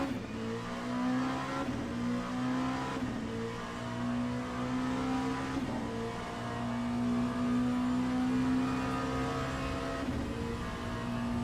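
Race car engine in Le Mans Ultimate through a tricky turn at the Porsche curves, a steady high-pitched drone rising and falling with throttle and gear changes, close and continuous with no talk.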